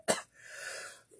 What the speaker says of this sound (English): Wait, I got a cough.